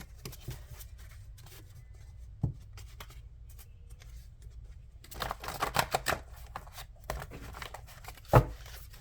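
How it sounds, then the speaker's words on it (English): A deck of tarot cards being shuffled, soft papery riffles and slides that start sparse and quiet, then grow busier and louder with a sharp snap near the end. "Let's shuffle one more time."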